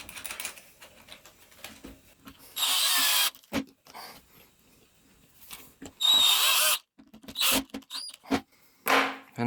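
A power driver sets two screws into a concealed cabinet hinge in short, loud whirring bursts separated by quiet pauses and small clicks of handling, close up.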